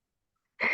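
A single sharp human sneeze bursts in after near silence at close range, loud and brief.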